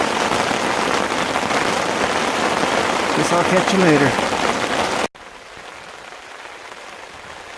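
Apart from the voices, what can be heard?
rain falling on a tarp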